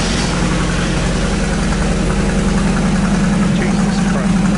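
A Mazda MX5 fitted with an M2 Motorsport race exhaust idles indoors, a steady, loud, deep burbling drone with an even low pulse throughout.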